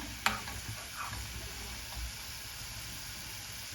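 Corn kernels deep-frying in hot oil, a soft continuous sizzle with a sharp clink near the start and faint stirring knocks, no talk.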